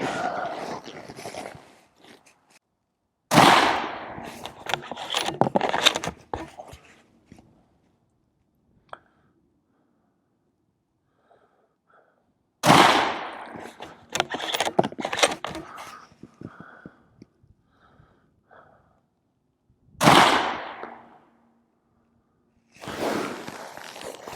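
A rifle fired while sighting in a newly mounted scope: four sharp, loud reports spaced several seconds apart, each with a quick, ringing decay, separated by quieter clicks and handling sounds.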